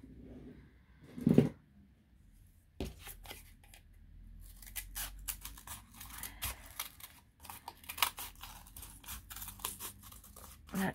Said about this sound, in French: je gagne du temps avec les grands ciseaux